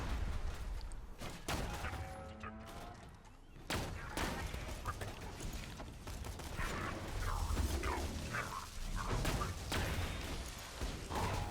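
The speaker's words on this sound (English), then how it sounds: "I threw the Quasar there because I wanted to get one enemy as damaged as we could before other enemies had a chance to see us" A Quasar grenade thrown in Borderlands 2 goes off amid a chaotic fight, with bursts of gunfire, mechanical clanks and crackling energy noise layered densely over about eleven seconds, moderately loud.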